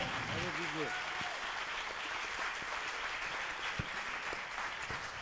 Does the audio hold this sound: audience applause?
yes